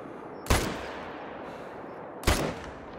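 Two sharp rifle shots crack in the hunting game theHunter: Call of the Wild, spaced almost two seconds apart, each loud and abrupt with a short echoing tail fading into outdoor quiet near a mountain lake.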